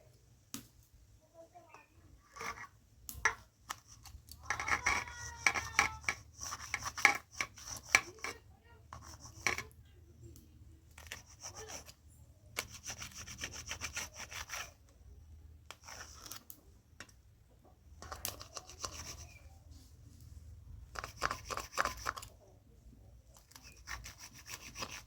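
A knife slicing taro leaves on a metal plate in a home kitchen, soft scraping and rubbing strokes with light clinks, repeated irregularly at close range.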